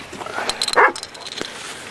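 A golden retriever at a canine rubble search trial lets out a single short bark on command, close and sharp, amid light handling noise.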